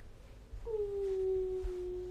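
A female house cat gives one drawn-out meow of about a second and a half. It sits fairly close over a quiet indoor room background, with no speech.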